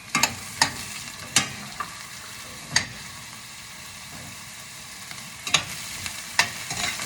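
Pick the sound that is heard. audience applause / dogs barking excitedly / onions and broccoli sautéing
onions and broccoli sautéing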